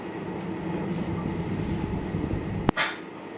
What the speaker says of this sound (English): Welcome aboard the airport special rapid service train bound for New Chitose Airport